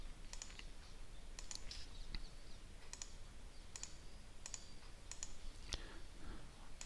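A computer mouse clicked repeatedly while placing points to digitize irrigation assets in mapping software, faint crisp clicks in small clusters spaced about a second apart over quiet room noise.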